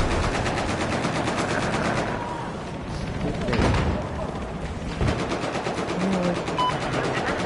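A Recon M412 Rex gun in a shooter game fires rapid, loud bursts that break off for a couple of seconds mid-way and then resume, while a voice briefly speaks.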